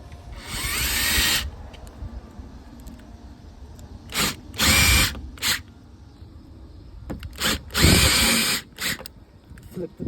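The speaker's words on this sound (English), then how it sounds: "Hold it in place and pre-drill." A power drill whirs in several short bursts, high-pitched and close, with brief pauses between each press of the trigger, pre-drilling holes while installing an EMCO/Andersen 200 series storm door.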